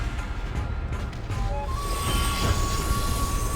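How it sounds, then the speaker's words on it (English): In the World of Warcraft Blackrock Foundry raid, a train rolls in on its track, a loud rumbling approach that swells and brings a rising metallic squeal of wheels, with no voices. "So here comes the next train."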